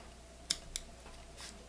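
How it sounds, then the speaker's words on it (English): Scissors snip material at a fly-tying vise while a Spey Woolly Bugger with a tinsel body is tied: two quick, crisp cuts close by in a quiet room, followed by a softer rustle. "kind of just come in with my scissors,"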